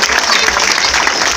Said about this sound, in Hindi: जोरदार एक बार आपके ताली के आशीर्वाद देंगे